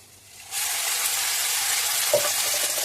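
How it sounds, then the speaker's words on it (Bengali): Ghatkol leaf paste poured onto garlic paste in hot oil sets off a sudden loud, steady sizzle that holds without a break, with a brief soft clunk late on. "পেস্ট করা ঘ্যাটকলটা ঢেলে দেবো"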